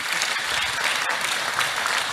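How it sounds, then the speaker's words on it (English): An audience at a car world premiere applauds guest speakers on stage, with dense, steady clapping that fills the hall evenly from start to finish and no voices on top. "Please, round of applause for our special guests today."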